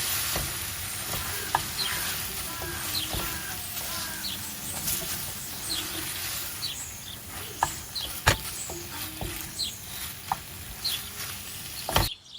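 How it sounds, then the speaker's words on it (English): Squid masala cooking on a medium flame, with a faint, close sizzle broken by scattered clicks and taps of a utensil against the pan, plus one sharper knock near the end, no talk. "Now add squeeze and start cooking for at least 30 minutes on medium flame"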